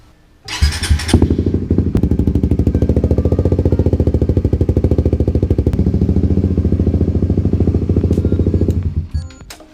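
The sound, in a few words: Suzuki GSX 150 motorcycle engine running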